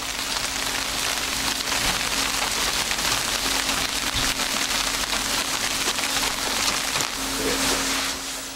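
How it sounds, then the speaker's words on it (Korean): Soft rain falls on dense bamboo around an old traditional inn deep in the mountains, a constant fine patter of drops held at even loudness throughout with a faint low hum beneath. "우거진 대나무를 적시며 내리는 나직한 빗소리가 깊은 산중임을 말해줍니다"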